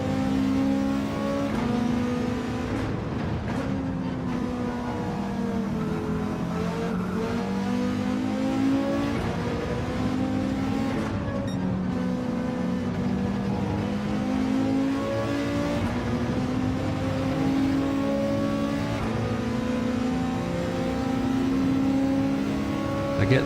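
A Gr3 race car engine in a racing video game holds a continuous, loud, droning note, rising and falling as it revs and shifts through gears during a lap.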